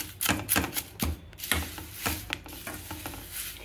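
Crisp fried curry leaves shaken in a pan give dry, papery rattling bursts that come in uneven, rapid clusters close by.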